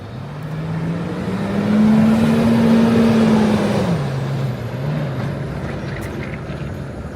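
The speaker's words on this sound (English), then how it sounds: "Cars are moving slowly, but they're coming." Slow-moving cars on a Manhattan street along Fifth Avenue, a steady low engine drone that swells in the middle as a vehicle passes nearby, then settles back into continuous traffic rumble with no talking.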